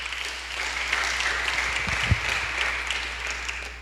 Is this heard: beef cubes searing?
no